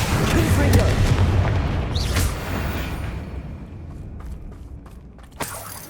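Confringo fire spell explosion in the Hogwarts Legacy video game, a loud booming blast with a heavy rumble that decays over several seconds, then a sharp crack near the end, with a voice speaking at the start.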